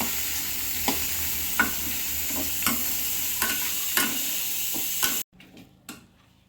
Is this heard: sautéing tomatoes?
yes